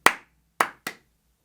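Three sharp hand claps set a rhythm, the first two spaced evenly and the third coming sooner, each crisp, close and alone in a quiet room.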